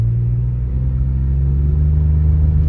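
A 1987 Camaro IROC-Z28 accelerating hard in a single gear, its engine droning loud and steady with rising harmonics as revs climb high, no voices over it.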